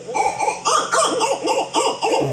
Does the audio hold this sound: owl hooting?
yes